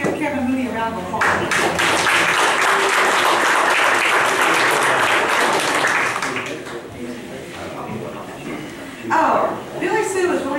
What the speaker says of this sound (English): Let's give Kevin Mooney a round of applause